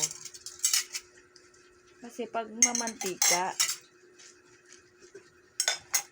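A child washes drinking glasses and then spoons, with clinks of metal cutlery and glassware coming in bursts; someone talks between them.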